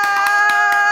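A studio audience claps for the cast of the film The Doll 3 on a talk show, with quick, irregular hand claps running over a steady musical backing.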